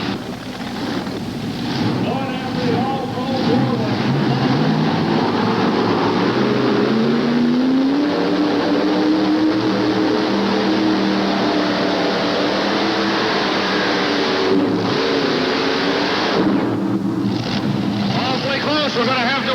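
A multi-engine pulling tractor running on three engines roars loudly through a tractor pull run at a 1988 Charlotte event, a sustained rising mechanical howl with wind buffeting. An announcer talks over the noise.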